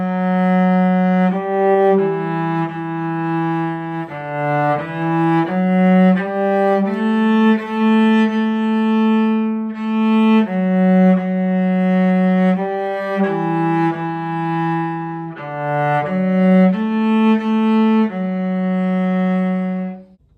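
A cello lesson piece played from the beginning: a bowed melody of sustained low notes moving stepwise with short breaks between phrases, close and full, with no talk.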